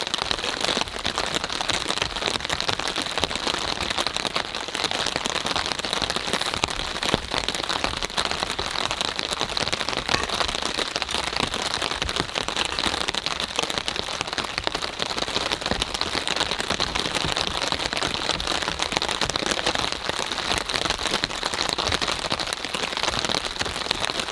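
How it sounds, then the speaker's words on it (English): Rain drumming on a camping shelter roof in a pine forest, a steady dense patter close overhead that continues without a break. "The rain is so loud on the top."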